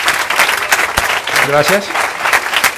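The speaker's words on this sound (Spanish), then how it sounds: "Fuerte el aplauso." Audience applause at a talk or presentation, steady broad clapping filling the whole stretch while someone speaks briefly over it.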